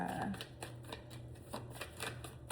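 Tarot cards are shuffled in a quick series of soft riffling slaps and flutters, close and faint, repeating in uneven bursts over a low background hum.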